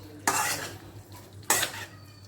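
A spoon stirs chicken pieces coated in yogurt in a pan over medium heat, two brief scraping strokes against the metal with quiet gaps between them.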